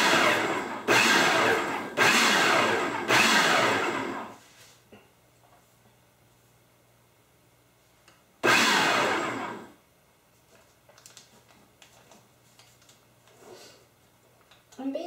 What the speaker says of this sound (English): it's like a crust recipe where you just pulse in the butter